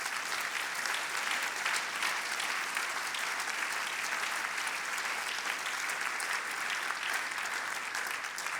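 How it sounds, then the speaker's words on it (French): Sustained applause from an audience for jury members at the HERA Awards 2024 ceremony, a dense, even wash of clapping lasting several seconds without speech. "on peut les applaudir aussi"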